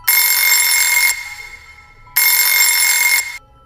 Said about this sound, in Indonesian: Pagi itu suara weker dari HP Roni bernyanyi dengan keras